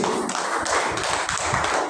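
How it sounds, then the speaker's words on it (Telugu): Church congregation clapping hands loudly at a Sunday worship service, a dense, steady wash of many overlapping claps filling the room without pause. "గట్టిగా చప్పట్లు కొడదామండి"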